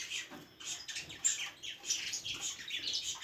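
Female canaries chirp in quick, high bursts, calling nearly nonstop and close by, with a faint rustle of movement underneath.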